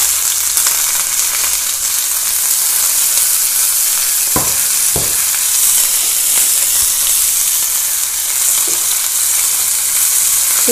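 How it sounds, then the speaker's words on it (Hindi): Chopped onions frying in hot oil in a pan for aloo gobhi, a loud continuous sizzle and hiss throughout, broken by a few soft knocks of a spoon stirring. "अब देखिए ऑयल गर्म हो चुका, अब हम इसमें डालेंगे अनियन।"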